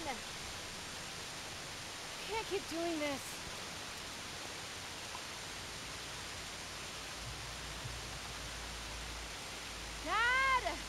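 A cat meows in The Last of Us Part 2 video game, two faint short calls early and a louder pair near the end, over steady hissing ambient noise.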